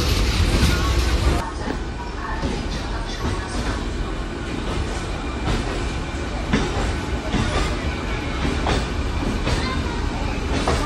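A crowded local train rolls along, a loud continuous rumble with rhythmic wheel clatter and rattling carriage noise throughout.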